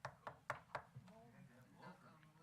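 Four sharp knocks on wood come in a quick, even rhythm, followed by faint speech-like murmuring.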